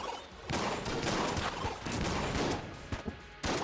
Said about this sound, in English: That was a dueling pistol shot.